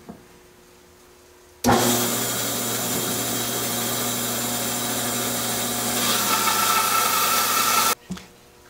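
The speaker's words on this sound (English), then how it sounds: "now I'm going to cut the other cheek that's going to form my tenon" A power saw cuts a tenon cheek in wood for a workbench base, starting abruptly and holding a loud, steady whine and rasp for about six seconds before cutting off, with quiet before and after.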